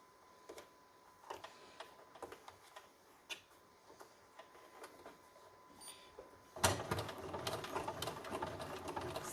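A sewing machine top-stitches tabs on a concealed carry belly band at a long 3.5 stitch length, first as quiet scattered ticks, then a louder steady whirring run, close and without talk.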